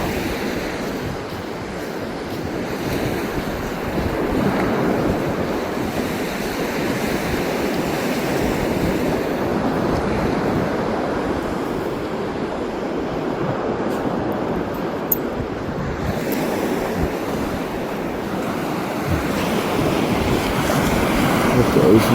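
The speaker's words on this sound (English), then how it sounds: "Sarge, first time at the ocean ever" Ocean surf on a dog-friendly beach in Charleston, South Carolina, a continuous loud wash of breaking waves mixed with wind buffeting the microphone, steady throughout with someone talking at times.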